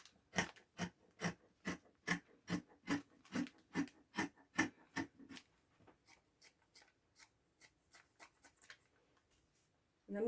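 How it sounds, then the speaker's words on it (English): Sharp scissors snip through fabric that is a little tough to cut, in a steady series of crunchy cuts, about two per second, then quieter, quicker snips follow as the cutting trails off. "these scissors are pretty sharp, yet it's a little tough to cut through."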